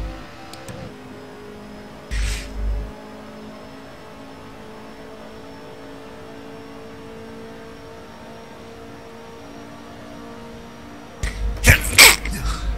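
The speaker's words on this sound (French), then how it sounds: "Ah, j'éternue" A man sneezes near the end, a short sharp burst over the low steady engine drone of an Assetto Corsa racing game, with another brief noise earlier in the otherwise quiet stretch.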